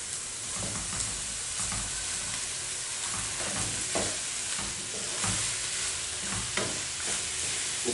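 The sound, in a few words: stirring chicken biryani rice in a pot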